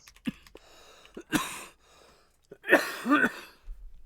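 Sneezes indoors during a relaxed art and tea session, a short burst near the start and a sharper, louder double sneeze later, with quiet pauses between and a faint clatter at the end.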